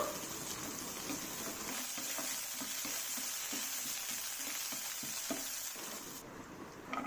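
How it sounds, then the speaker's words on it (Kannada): Chopped onion frying in hot oil for a prawn curry, a steady broadband sizzle with soft rhythmic stirring scrapes running throughout, close and continuous with no talk. "ಎಣ್ಣೆ ಕಾದ ನಂತರ ಒಂದು ಕಟ್ ಮಾಡಿರೋ ಈರುಳ್ಳಿ ಸೇರಿಸ್ಕೊಳ್ಳೋಣ. ಚೆನ್ನಾಗಿ ಫ್ರೈ ಆಗಬೇಕು."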